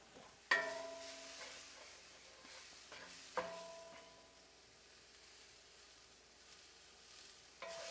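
Garlic, shallot and ginger sizzle steadily in a pan for an eggplant stir-fry, with a few sharp scrapes and clanks of a utensil stirring against the pan, close and moderately quiet, no talking.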